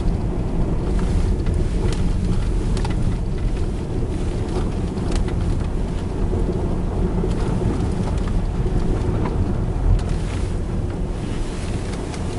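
Strong wind roaring without pause through a December snow blizzard outside a house, a loud, dense, buffeting rush that pounds the microphone for the whole stretch, with no voices.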